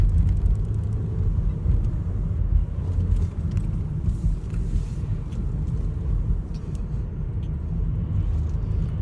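A small Pontiac car passing on the road, heard as a continuous low rumble of engine and tire noise at moderate distance, fairly quiet and steady without speech.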